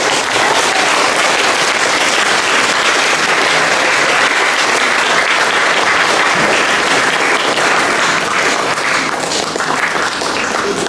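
Sustained, loud applause from a seminar audience marking the opening of a religious moderation seminar in Kupang, steady dense clapping filling the hall for the whole stretch with no voices over it.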